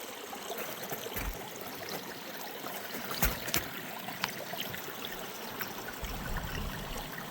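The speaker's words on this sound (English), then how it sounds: "Water is flowing in Willow Creek" Willow Creek flowing along a trail in winter, a steady close trickling and babbling of water with no voices, continuous and fairly soft throughout.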